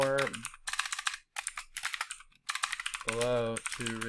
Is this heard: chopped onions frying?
no